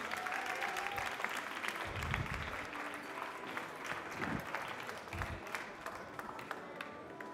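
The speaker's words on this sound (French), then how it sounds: "Allez, on applaudit les cappuccinos, la deuxième partie qui a été servie." An audience at a barista competition applauds as served cappuccinos are presented, a steady crowd clapping heard at moderate distance with some low thumps and room noise mixed in.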